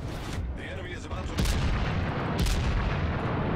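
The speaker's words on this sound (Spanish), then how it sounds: "Mira, con mi secundaria te disparo." Secondary battery guns fire aboard a warship in a naval combat game, with the Tirpitz in the fight: a dense run of booming shots and explosions, loud and continuous, under a voice speaking Spanish.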